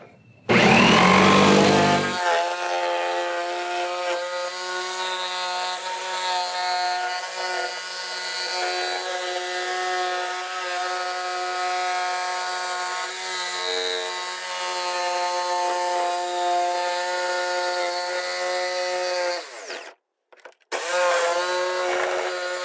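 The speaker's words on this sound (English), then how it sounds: "Now I'm ready to begin my cut with the jigsaw." A jigsaw cuts a hatch opening into the hull of a Hobie Mirage Passport 12.0 fishing kayak, a continuous buzzing whine running steadily for about twenty seconds before briefly stopping and restarting.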